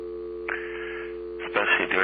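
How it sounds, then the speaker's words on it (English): An old 1950s telephone dial tone hums softly and steadily, a low continuous drone that carries on beneath a narrating voice. "listen to the dial tone, the soft hum of the dial tone that was always there"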